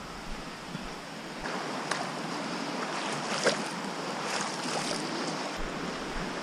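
Creek water rushes steadily at a trail creek crossing in Window Cliffs State Natural Area, a continuous broadband wash with a windy rumble and no voices.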